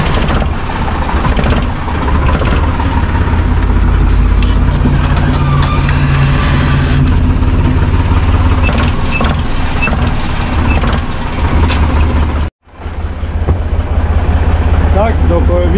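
Small Deutz tractor engine running with a loud, continuous rumble close by, full and steady for a long stretch, then cutting off abruptly before a brief restart at the end.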